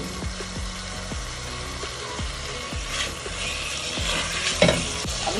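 Spoon stirring prawn biryani ingredients in a pot, steady scraping and clinking strokes over a soft continuous sizzle, close and moderately loud with no talking.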